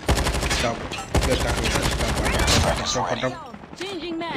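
In Call of Duty Mobile, a CR-56 AMAX assault rifle fires loud, rapid automatic bursts with a short break in the middle. Other game sounds and a person talking join in toward the end.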